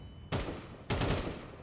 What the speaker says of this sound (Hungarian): Bén 2 lövöldözik lépcsőről.